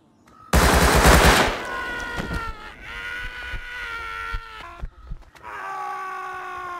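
Loud burst of automatic gunfire in the survival game Rust, a dense rapid volley up front followed by ringing tonal game effects and scattered shots, with no talk.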